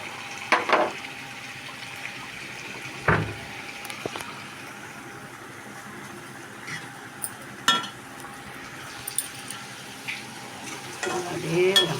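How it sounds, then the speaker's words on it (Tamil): Tomatoes sauté in sesame oil in a pan for pickle, giving a soft continuous sizzle broken by occasional stirring scrapes and clatters, fairly close but low in level. "அப்படியே எண்ணெய், நல்லெண்ணெய் அப்படியே நல்லா வதங்கி வரணும்."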